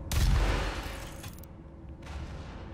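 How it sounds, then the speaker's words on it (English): A Doom rocket launcher fires in Doom VFR on PSVR, a loud, close blast with a heavy low boom that rings out and then fades over about a second, with a smaller burst of noise following. "firing the rocket from Doom up close and personal, and hearing that sound as if it's really there is a pure joy"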